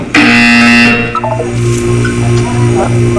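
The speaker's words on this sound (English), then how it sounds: "You will hear a buzzer." A loud, harsh buzzer from the video game Portal 2 blares for about a second, followed by softer electronic beeps and tones.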